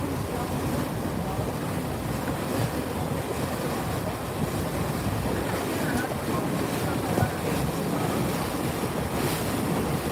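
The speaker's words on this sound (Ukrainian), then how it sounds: "добираємось до острова такою лодкою великою. Водичка так хлюпає." Water sloshing and splashing around a large boat crossing to an island in Venice, a steady broadband wash with wind buffeting the microphone throughout.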